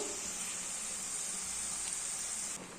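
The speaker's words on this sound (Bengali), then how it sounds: "আলু ভাজাটা হচ্ছে" Potatoes fry in a pan with a faint, steady hiss and sizzle that carries on evenly and eases slightly at the end.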